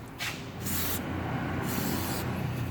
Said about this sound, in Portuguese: Joga WD no pé do amortecedor para encaixar ele facilmente ali